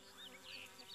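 Flies buzz close by in a brief, faint whine that wavers slightly in pitch over about a second.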